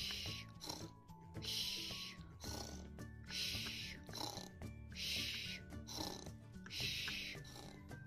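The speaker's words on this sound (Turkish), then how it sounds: "Of ya koca ayı, ne çok horladın." Loud rhythmic snoring repeats about every second and a half, each breath a raspy, hissing rumble over a faint musical background.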